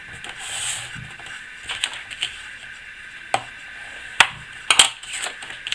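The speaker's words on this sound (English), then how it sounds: "I put it on the half line and I'm scoring it at 2." Scoring tool pressed along a line on a card, a series of sharp scratchy clicks and short scrapes at an uneven pace, close and fairly loud.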